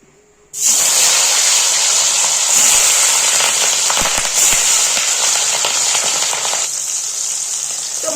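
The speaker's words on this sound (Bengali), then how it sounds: "কড়াইতে তেল দিয়ে দিয়েছি তেলও গরম হয়ে গেছে মাছগুলো এক এক করে ছেড়ে দেবো" Pieces of dhela fish dropped into hot oil in a wok set off a loud, steady, close sizzle that bursts in abruptly after a brief quiet moment and keeps crackling throughout.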